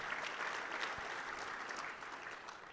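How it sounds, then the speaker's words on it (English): Steady applause from a luncheon audience, dense clapping that holds at an even level for a few seconds before easing slightly toward the end. "let's give a big round of applause"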